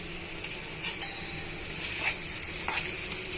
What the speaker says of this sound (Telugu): ఇలా ఇవన్నీ కూడా బాగా వేయించేస్తున్నామండి